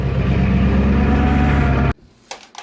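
A Ford 7.3 diesel truck engine runs close and loud after a cold start in Minnesota, giving a steady rough clatter and rumble that cuts off abruptly near the end, leaving faint quiet sounds.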